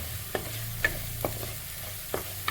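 Garlic and ginger sauté in a pan for a Kerala-style fish curry, sizzling steadily up close while a spoon scrapes the pan in regular strokes about every half second.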